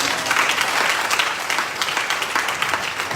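A church congregation applauding, a dense, steady wash of clapping from many hands, loud and continuous throughout.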